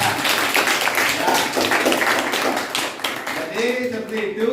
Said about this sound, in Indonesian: tepuk tangan untuk temannya yang sudah ke depan ya